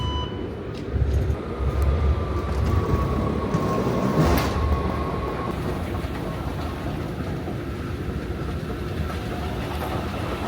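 A train station in Amsterdam hums with rumbling rail cars, a rising whine and a sliding door, with a steady low roar of trains heard close by throughout.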